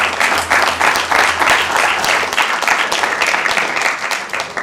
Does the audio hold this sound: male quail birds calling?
no